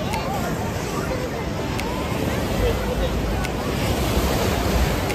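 Ocean surf rolls continuously at Kovalam beach in Kerala, a loud, steady wash of breaking waves with wind and a faint murmur of distant voices mixed in.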